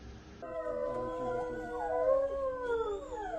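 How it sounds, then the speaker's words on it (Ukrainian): Several white wolves in a zoo howl together during an air-raid alert, long overlapping wavering tones that rise and fall, a sustained chorus close by with a low rumble underneath. "Ось так білі вовки в подільському зоопарку реагують на повітряну тривогу"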